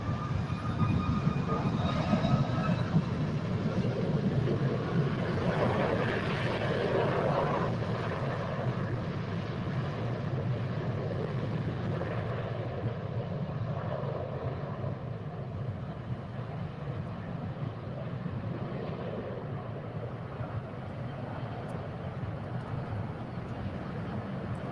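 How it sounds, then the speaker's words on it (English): A United Boeing 757-200 landing at LAX on the south side, a broad, loud jet roar that fills the clip and slowly fades, heard from the ground near the airport. "actually a United 757-200 coming from Houston, landing on the south side"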